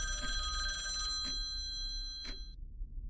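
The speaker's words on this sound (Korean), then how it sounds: "누군가에게서 전화가 왔다" A telephone rings with a bright electronic tone in repeated bursts that end abruptly, heard clearly and nearby in a quiet room with no talking.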